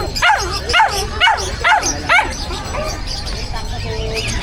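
A dog at a pet market gives five sharp, close barks in quick rhythmic succession, then falls quiet beneath the busy crowd murmur of the market.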